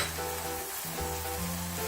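Ginger, garlic and chilli paste frying in a hot pan for paneer lasagna, a continuous close sizzle with a low steady hum underneath and no talk.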